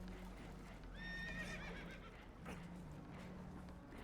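Spooked horses in Red Dead Redemption 2 let out a sharp whinny, heard faintly against a low rumbling background on a boat taking on water.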